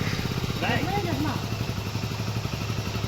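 A motorcycle engine runs in a village, a rapid low chugging putter under nearby conversation, steady and moderately loud throughout.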